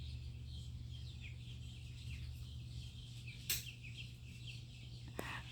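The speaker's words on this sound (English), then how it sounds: "South African birds." South African birds call outdoors in the afternoon, faint chirps and calls repeating over a low steady background hum, with a couple of sharp brief clicks.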